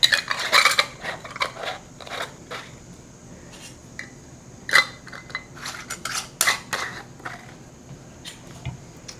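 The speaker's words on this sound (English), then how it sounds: "And then we're gonna go on with our lids." Metal lids and screw bands going onto glass canning jars, with close clinks, scrapes and light twisting creaks in irregular bursts against a quiet kitchen background.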